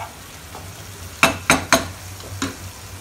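A spoon stirs tamarind paste and jaggery into a masala in a pan, giving four sharp scraping knocks over a faint background sizzle.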